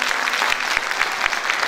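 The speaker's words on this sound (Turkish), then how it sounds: "Bulgar grubumuza bir büyük alkış daha rica edelim." A festival audience in Istanbul applauds after a Bulgarian group's performance, producing a dense, steady patter of many hands clapping throughout, loud and close, without talk over it.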